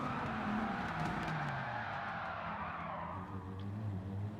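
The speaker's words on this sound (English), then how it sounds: "spin and go completely sideways into the entrance of the next corner" A race car in the video game Gran Turismo 7 sliding sideways into a corner, a continuous engine drone with rising and falling pitch and a faint tyre hiss, steady and fairly loud, with no talking.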